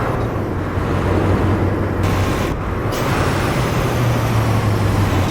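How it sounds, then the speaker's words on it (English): A truck's engine brake in the American Truck Simulator video game, from an added engine sound pack, gives a steady, loud, low rumbling roar that holds throughout with slight shifts in tone. "Let me activate the engine brake, and then when I lift off, the engine brake will trigger."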